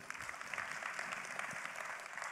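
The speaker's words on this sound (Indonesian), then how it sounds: "Tepuk tangan buat kita semua dulu." An audience at a seminar-style gathering applauds, with a steady mass of clapping from many hands at moderate distance, fairly soft, continuous and without talk.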